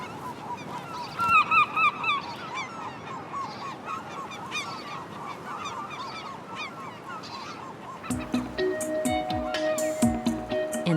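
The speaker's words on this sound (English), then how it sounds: "Some gulls are already sitting on their nests, while others have only got as far as mating or courtship displays." Gulls nest on a Breton sea cliff, and their repeated harsh, honking calls overlap continuously, some close and some farther off. A voice talks over the colony, and a different steady tone joins near the end.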